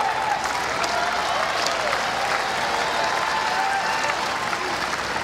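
A large tennis crowd at the US Open keeps up steady, dense applause throughout, broad and sustained with no pauses, a commentator's voice faint beneath it.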